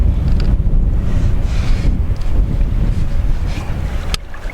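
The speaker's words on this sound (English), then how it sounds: "The winds out here have been relentless." Relentless strong wind roars across a lake at a walleye fishing camp, a loud continuous buffeting rush with faint water wash beneath, no talking.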